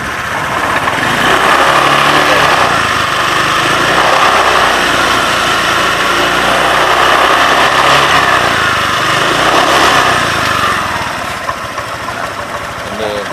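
A hot Honda Vario scooter engine revved up close, a loud, steady motor drone that swells and eases over several seconds before settling.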